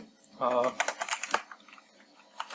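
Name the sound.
typing on a computer keyboard while writing C# code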